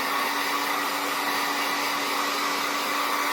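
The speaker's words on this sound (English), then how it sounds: "move the hair dryer around while you're blowing it" A hair dryer blows continuously at close range on a wig, giving a steady, loud whoosh with a constant motor whine underneath. No one speaks.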